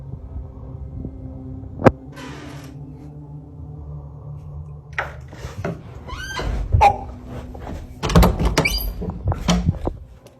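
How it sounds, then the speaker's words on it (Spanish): Bedroom door at night heard through a recording: a sharp knock or latch click, then creaks, thuds and scraping as it moves, growing busier and louder toward the end over a low steady hum. "La puerta del cuarto se abría y cerraba sola"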